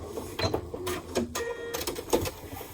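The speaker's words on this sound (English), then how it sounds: "I am reinforcing with a back stitch on each handle." A sewing machine back-stitches across a tote bag handle in short, close bursts of rapid mechanical stitching separated by brief pauses, loud and close.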